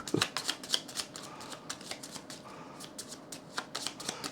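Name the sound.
shuffling a deck of cards for a board game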